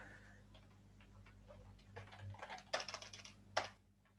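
Keys clatter on a computer keyboard while code is typed, a quiet, uneven run of clicks that grows busier toward the end with a couple of sharper key strikes.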